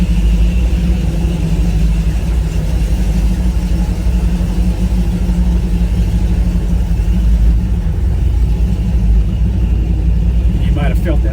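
An old farm truck rebuilt as a hot rod drives along, its engine producing a steady, loud low rumble that continues without a break, with a faint higher tone near the end.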